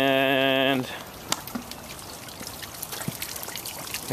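Water trickles and splashes from a garden pond fountain among rocks and river stones as a continuous light patter with scattered drips, after a brief buzzing tonal sound at the start.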